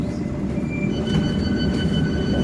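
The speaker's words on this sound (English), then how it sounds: "This is an all-stations Metropolitan line train to Uxbridge." A London Underground Metropolitan line train runs all stations toward Uxbridge, its steady loud rumble of wheels and carriage filling the space, with faint high rail squeal lines above and no talking.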